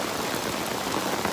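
Steady rain falls at an outdoor building site, a dense, even hiss of drops with no breaks, fairly close and filling the space.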